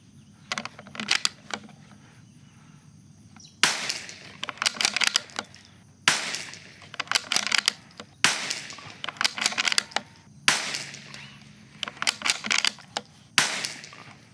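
Seven sharp rifle shots from a Bergara B14R firing Eley match ammunition crack out one at a time, a couple of seconds apart, each followed by a short ringing tail and clattering handling noise between.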